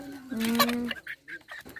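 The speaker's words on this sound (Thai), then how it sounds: "ตอนนี้ผมกำลังจับไก่" A chicken being caught at a village wedding gathering gives a loud squawk followed by a few clipped, agitated clucks close by.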